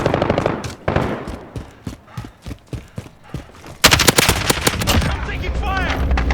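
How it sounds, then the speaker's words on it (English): Gunfire in Call of Duty: loud bursts of rapid automatic fire, close and dense, with a heavier sustained barrage breaking in midway and continuing to the end, no talk over it. "I'm taking fire!"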